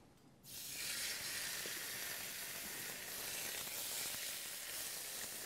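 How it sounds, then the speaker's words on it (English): Steady, loud sizzling of beef schnitzels frying in a hot pan, a continuous hiss that starts abruptly and holds without pause. "So there'll be a bit of a sizzle and a pop."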